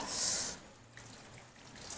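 Water poured to rinse a body during a practice washing session, a soft splashing pour at the start that fades, followed by faint trickles and drips in a quiet room.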